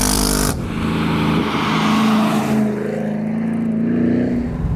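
A Chevrolet Camaro ZL1 Convertible's supercharged engine revs up loud and close, its deep roar rising steadily as the car accelerates hard, with no talking over it.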